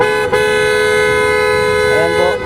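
A loud, sustained PIA Auto Style aftermarket car horn on a Toyota Wigo blaring continuously, with a brief break near the start and a short wavering tone toward the end.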